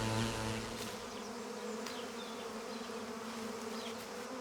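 A swarm of honeybees buzzes steadily and densely, a continuous close drone with layered wingbeat tones, holding at an even level throughout with no voices.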